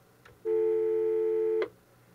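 Telephone line tone during a failed call-in to a sports talk show, a single steady electronic beep held for about a second between brief clicks, loud and clear over faint background hiss.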